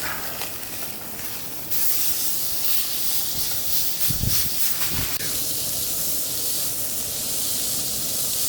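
Steak sizzling on a camp grill right after being flipped, a loud steady hiss that jumps up in intensity as the meat hits the hot surface, with a few soft thumps.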